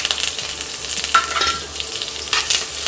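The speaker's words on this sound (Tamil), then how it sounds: "வெங்காயம் லைட்டாக டோஸ்ட் ஆனால் போதும்" Onion, garlic and curry leaves toasting in a pan for podi idli, a continuous close sizzle with occasional stirring scrapes, moderately loud and without speech.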